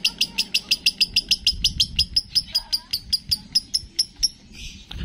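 Rapid, regular high-pitched chirps from a female lovebird, repeated in a fast steady series, close and clear over a quiet low background hum.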